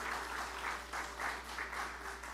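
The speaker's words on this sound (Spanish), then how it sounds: "denle un fuerte aplauso por ahí" A church congregation claps in steady, rhythmic waves throughout, a sustained burst of applause at moderate distance with a low hum beneath and no talking over it.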